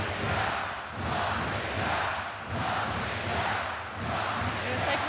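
Crowd in an arena at a Latvia versus Brazil Olympic qualifying basketball game, a loud sustained roar swelling and ebbing in rhythmic waves like chanting, with faint commentary beneath.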